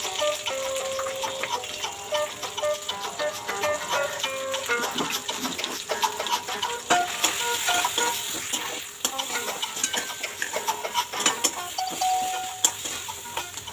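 Green pea paste fries in oil with salt and sugar in a pan for Bengali peas kachori, giving continuous soft sizzling with frequent scraping stirs of a spatula, steady and close, no talking.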